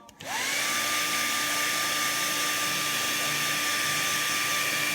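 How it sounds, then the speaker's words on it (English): A hair dryer switches on and blows continuously with a steady high whine and rushing air, close by and loud, drying paint on a miniature; no talking. "So I take my hair dryer"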